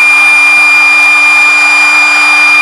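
An electric motor runs at full speed with a loud, steady high-pitched whine and a constant hum that stays unchanged for the whole stretch, heard close up and alone.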